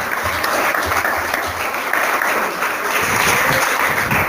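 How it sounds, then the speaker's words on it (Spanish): An evangelical church audience applauds during a service, a loud, continuous round of clapping that carries through the whole stretch with a faint low rumble beneath. "Vamos a darle un aplauso en el Señor."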